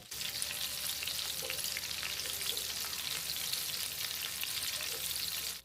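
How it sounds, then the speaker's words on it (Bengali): Chicken satay skewers fry in a pan with a dense, even sizzle that holds steady close up for several seconds, with faint scraping as the pieces are turned, and no talk. "স্যাটেগুলোকে আমি উল্টে পাল্টে ভালো করে ভেজে নিচ্ছি"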